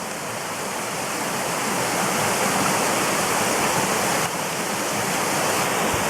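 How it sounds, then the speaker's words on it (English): Steady, loud roar of a waterfall pouring over the top and down a flat rock face, a dense continuous rush of falling water close by, with no voices. "I'll get a view of the waterfall later"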